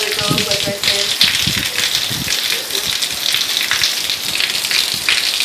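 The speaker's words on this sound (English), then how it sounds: "Ew, it is raining hard." Heavy rain pours down hard in the desert, a loud, dense hiss filling the whole stretch, with a few low knocks and rumbles near the start.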